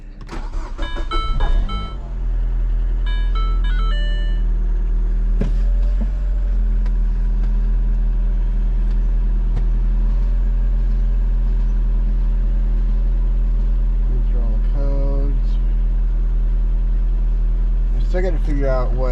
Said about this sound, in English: Put the key in like that and then push start.